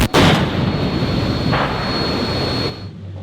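A captured Russian tank fires its main cannon in a combat zone: one loud, sharp blast followed by a sustained roaring rumble of the explosion that fades out after a few seconds.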